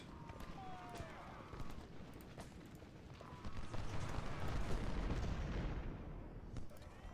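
Musket volleys and artillery fire roll through a Civil War battle in Ultimate General: Civil War, a dense continuous crackle of gunfire with heavier booms swelling midway, steady and fairly loud throughout.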